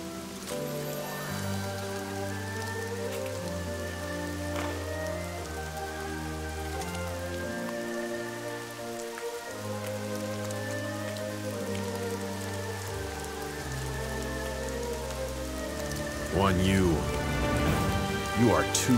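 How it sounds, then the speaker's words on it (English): Heavy rain pours in a PlayStation 2 cutscene from Dynasty Tactics, a constant hiss beneath sustained musical tones, with the sound swelling louder near the end. "The rain is falling hard, and we cannot see."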